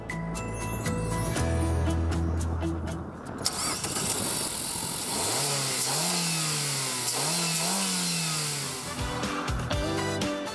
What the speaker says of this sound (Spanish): El motor delantero central de 96 kilovatios, que transmite la fuerza al eje trasero, se siente cómodo sobre todo a altas revoluciones.